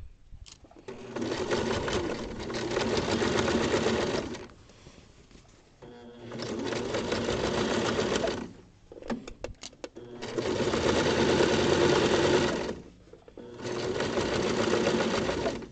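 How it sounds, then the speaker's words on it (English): A sewing machine stitches a garment lining seam in four sustained whirring runs, separated by short pauses filled with small clicks and handling noises, close and steady. "I'm just stopping with my needle down so that it doesn't fall out, lifting my presser foot and tucking it back under"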